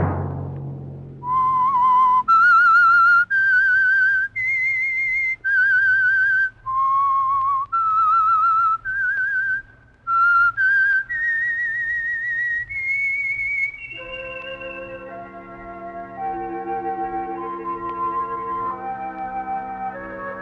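A lone whistler carries the theme melody of The Whistler radio mystery program, a series of sustained, gliding notes in a clear rising and falling tune. A soft orchestral chord bed then enters beneath it and continues to the end.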